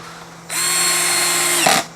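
A cordless impact driver driving a screw whirs loudly for just over a second, starting abruptly and ending with a brief rattling burst before cutting off.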